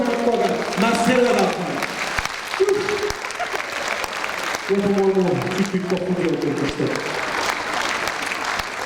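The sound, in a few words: audience applause at a concert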